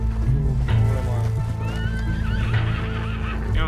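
In a video game, a horse whinnies with rising and falling squeals over a constant low engine-like hum and background game noise, with hooves faintly beneath.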